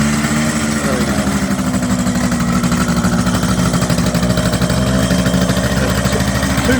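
A 1978 Kawasaki KH400 two-stroke triple motorcycle, fresh out of storage, runs on only two of its three cylinders, giving a steady, loud, uneven engine drone throughout at close range.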